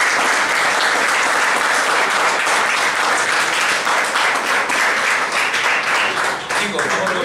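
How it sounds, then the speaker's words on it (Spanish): Loud, steady applause from a classroom audience honoring a classmate at a logistics class presentation, dense clapping holding for several seconds with faint voices mixed in. "Un aplauso para el compañero."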